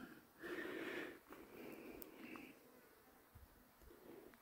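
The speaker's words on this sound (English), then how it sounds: "And even here there are bees flying around" Faint buzzing of bees drifts nearby in a desert wash near a small mine, rising and fading as they pass in a quiet outdoor space.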